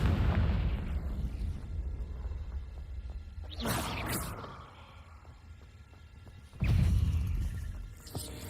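A Confringo fire spell exploding in Hogwarts Legacy, with two loud, close blasts several seconds apart, each a sharp burst followed by a rumbling, crackling decay over a low background of game sounds.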